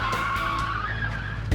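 Car tires skid and squeal loudly as a conjoined car with turning axles mounted mid-body is yanked into a sharp corner at about 40 mph, a steady screech over engine rumble ending with a brief thump.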